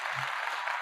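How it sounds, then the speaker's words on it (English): Applause sound effect played during a live chat stream, a brief dense burst of clapping at moderate level. "Let me give you a clap."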